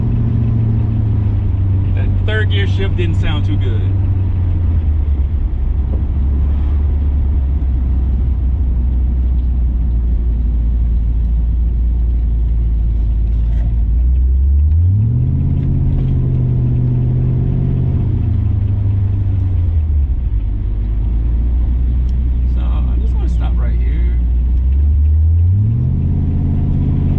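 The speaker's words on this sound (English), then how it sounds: "Third gear shift didn't sound too good." A supercharged Coyote V8 engine swapped into a car accelerates hard, its deep droning exhaust rising in pitch through each gear, dropping sharply at the shifts, and climbing again, loud and continuous close to the microphone.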